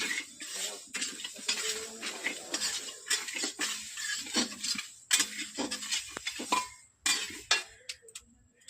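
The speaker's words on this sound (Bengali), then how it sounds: "মুগ ডালটা নাড়ি করে ভেজে নিই" Mung dal being stirred and dry-fried in a pan for khichuri, with repeated scraping and clinking of a metal spoon against the pan in uneven bursts, fairly close, no voices.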